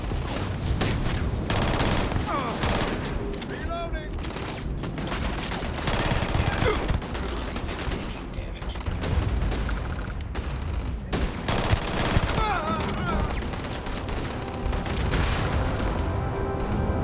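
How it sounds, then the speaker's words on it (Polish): Continuous gunfire rattles through a firefight in the video game Starfield: dense bursts of automatic shots and booming impacts, loud and relentless across the whole stretch with barely a pause. "Kto mi tutaj strzela?"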